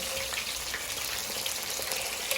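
Chicken chapli kebabs fry in a pan with a dense, even, hissing sizzle that holds steady throughout, close and moderately loud with no talking.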